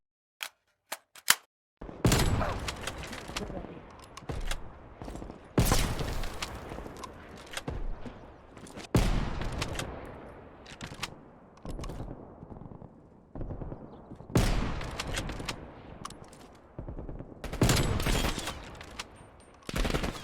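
Rapid video game gunfire triggered through a custom modded Xbox Series X controller with a fast reload feature, loud repeated bursts of shots separated by brief pauses for reloading, with no talking.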